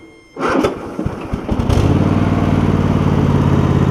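Kohler V-Twin engine on a Cub Cadet GT1554 garden tractor starting up: a short grind from a weak starter and a few sputters, then the engine catches and settles into a loud, steady idle up close.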